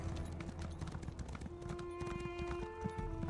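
Horse galloping in The Elder Scrolls Online video game, with rapid, steady hoofbeats close by and faint ambient tones underneath.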